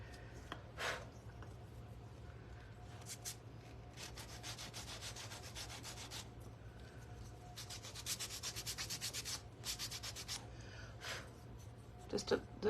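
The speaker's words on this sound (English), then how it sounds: "I'm gonna sand these" Sandpaper rubs around the edge of a gourd in repeated bursts of rasping strokes, some short and some sustained, close and moderately loud over a steady low hum.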